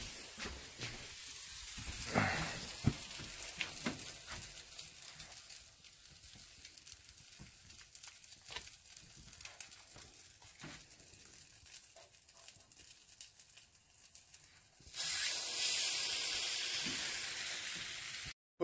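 French toast frying in a hot greased pan, a quiet steady sizzle with small crackles and clinks. A louder hissing spray bursts in near the end.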